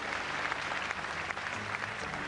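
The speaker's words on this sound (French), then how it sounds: "Avec vos applaudissements pour dire Miss Midi-Pyrénées" Pageant audience applauding Miss Midi-Pyrénées as she is named fourth runner-up, a sustained wash of crowd clapping heard alone and somewhat distant, with no voices over it.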